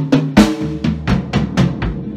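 A drum kit plays an eighth-note triplet fill moving around the toms, a run of about seven sharp, evenly spaced hits descending in pitch, close and solo.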